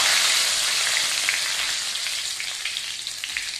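A bay leaf sizzles in hot mustard oil for a chicken curry, a steady bright crackling close by with no voices.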